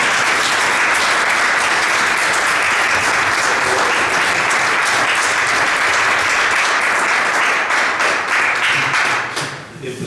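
An audience at a public talk on Africa gives sustained, loud applause that fills the room for about ten seconds, fading slightly at the very end.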